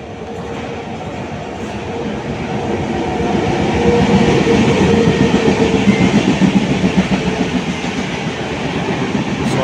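Saraighat Express from Howrah to Guwahati passing on the rails, a loud continuous rumble with rhythmic wheel clatter that builds to a peak midway and stays strong to the end, with no voices.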